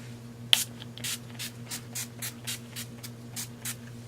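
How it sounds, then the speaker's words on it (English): NYX Dewy Finish long-lasting setting spray is misted over a face in about eight short, even pumps with a spritzing hiss, close and clear, and no one talks. "I'm just going to go in with the NYX Dewy Finish Long Lasting Setting Spray"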